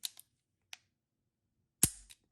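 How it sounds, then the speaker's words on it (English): Sharp, dry mechanical clicks from a Ruger rifle being dry-fired on snap caps: a few light ticks, then one louder snap followed by a short metallic rattle, each isolated in near silence. "They're a way you can practice your dry fire"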